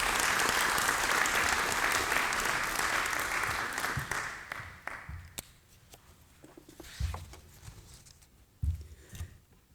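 An audience at a Selden Society law lecture applauds a speaker onto the stage, dense steady clapping that thins out into scattered claps, footsteps and small knocks as the room settles.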